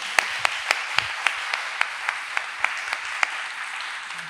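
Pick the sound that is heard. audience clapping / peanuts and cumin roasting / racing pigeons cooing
audience clapping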